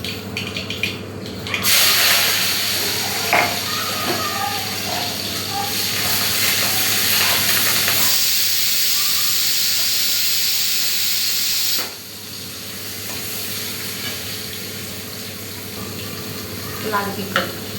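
Masala of curry leaves, tomato, garlic and coriander sizzles and hisses steadily in a hot pan for a home-cooked ridge gourd dish, a loud continuous frying roar that briefly drops before resuming, with occasional stirring clinks.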